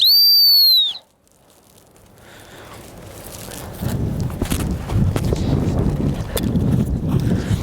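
A gun dog training whistle gives a sharp, high two-tone blast once at the start, followed by rustling outdoor background noise and soft footsteps.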